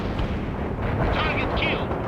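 Battle gunfire and distant artillery from the strategy game World in Conflict, a dense continuous rumble of shots and blasts with faint voices mixed in.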